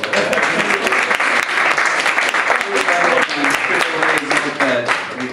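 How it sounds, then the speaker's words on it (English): A comedy club audience claps and applauds steadily for several seconds, a dense crowd of hands with some voices mixed in. "Round of applause for Callum."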